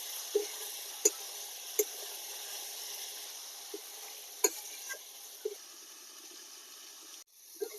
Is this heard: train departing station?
no